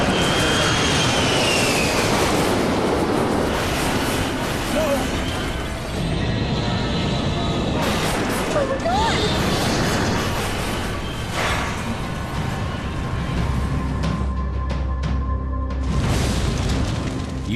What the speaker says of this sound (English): the pilots can't control the plane as it cuts through a small grove.